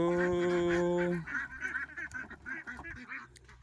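A flock of laying ducks quacks and honks together in a noisy chorus, with a loud sustained call at the start before many overlapping quacks continue.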